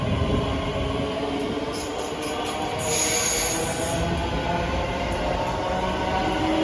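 Wheels squeal at high pitch over a broad low rumble as a ScotRail train departs Haymarket station, the squeal swelling briefly mid-pass before settling back into steady rolling noise.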